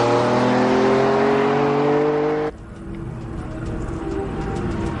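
A Lamborghini Diablo sports car accelerates hard with a loud, rising engine whine, then a sudden gear change drops the pitch into a rougher, steady roar.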